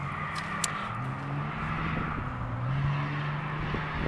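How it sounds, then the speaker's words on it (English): Cars race along a road beside a cemetery, a moderate engine drone rising and falling as vehicles accelerate and pass at a distance, with a brief sharp tap early on. "Sorry, there's someone racing."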